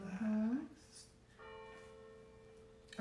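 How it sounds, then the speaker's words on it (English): Church bells ring faintly in the distance, their sustained tones lingering under a brief spoken voice at the start and a soft hum. "It's a beautiful thing, the bells."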